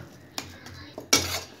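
A spoon scrapes and knocks against a pot while spiced potato masala for aloo appe is mixed, giving a few separate clinks and scrapes, the last one louder, over quiet kitchen background.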